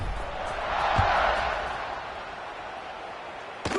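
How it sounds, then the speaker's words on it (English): Crowd buzzing in a college football video game after a score, a steady murmuring stadium roar that swells then settles, with a thump near the start and another near the end. "this crowd is buzzing after that last score"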